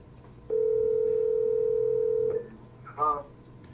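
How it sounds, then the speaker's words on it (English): A steady telephone dial tone holds for nearly two seconds while a call is being placed, then cuts off and a brief voice follows. "Why don't we get Sean on the phone"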